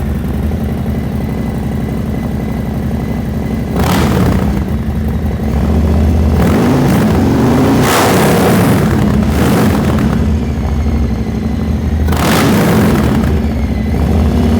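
A Vance & Hines stainless 2-into-1 exhaust on a Milwaukee 8 Softail rumbles at a steady, loud idle, broken by several sharp throttle blips that swell and fall back, with no talking.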